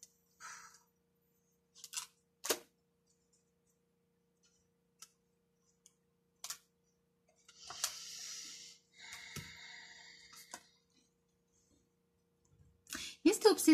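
A few scattered light clinks and clicks, like coins dropped into a bowl, quiet and sparse with silent gaps between them.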